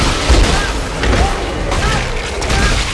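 Enemies burst apart in Dead Space 3, heavy booming blasts and thuds rolling in a dense, continuous stretch of combat noise.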